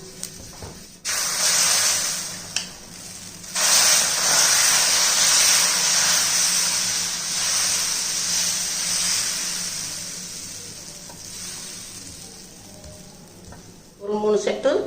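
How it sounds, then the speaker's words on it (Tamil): Oil sizzling and hissing loudly on a hot dosa griddle as it is rubbed across with an onion, a continuous frying crackle that swells and fades, with a few clattering touches at the end. "இப்போ தோசைக்கல் சூடாக இருக்குப்பா. நம்ம வெங்காயத்தை வச்சு எண்ணெயை தடவிக்கிடுவோம்."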